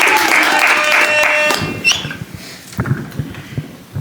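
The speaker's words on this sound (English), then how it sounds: "give a big round of applause and show love to Raya Aleyce" An audience applauding for guest Raya Aleyce on a podcast, a loud burst of clapping that fades after about a second and a half into scattered claps and small noises.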